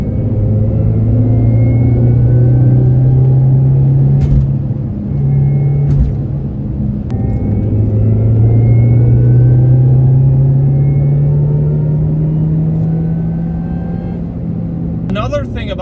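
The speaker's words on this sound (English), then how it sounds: "I want to accelerate a little bit because I want you to hear the supercharger, which is actually fairly loud inside this car." Supercharged Mini Cooper S R53 accelerating as heard from inside the cabin, a loud droning engine note with a rising supercharger whine that climbs, dips briefly at a shift, then climbs again.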